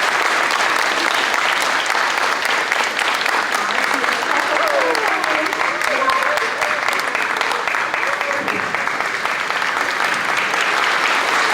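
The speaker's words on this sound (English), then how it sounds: "Can we please give Ms. Carpenter a big round of applause?" Steady, full round of applause from an audience at a kindergarten concert, dense claps sustained evenly throughout at strong volume with a faint voice briefly beneath.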